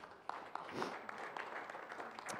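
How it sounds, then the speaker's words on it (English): A small audience at a fire department eclipse information session applauds, giving brief, moderately faint clapping with scattered distinct claps for a couple of seconds. "Applause is fine."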